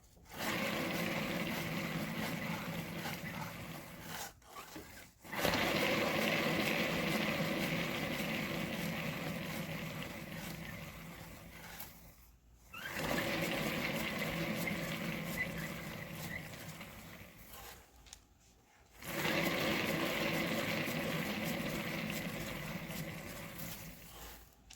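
An acrylic pour painting tile spinning on a turntable gives a steady broadband whirring hum that runs in long stretches, broken by a few brief stops, fairly loud and without talk.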